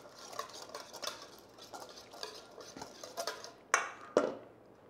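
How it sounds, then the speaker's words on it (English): A whisk clinks and scrapes against a bowl while garlic, shallots, olive oil and herbs are mixed, making quick, quiet rhythmic taps close by, ending with two sharper metallic knocks. "I'm gonna whisk this together real quick."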